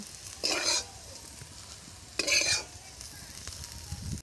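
Eggplant frying with neem leaves in a pan, stirred now and then: two short bursts of scraping, sizzling stirs, the second louder, set over a quiet steady fry with no talking.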